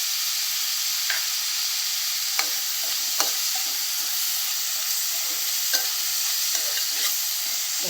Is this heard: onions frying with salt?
yes